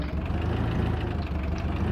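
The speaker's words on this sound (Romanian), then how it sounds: "Pornește cam greu motorul, stă și în apă." A tractor engine idles and runs steadily in Farming Simulator 2015, a low continuous rumble with a slightly rough, labored tone.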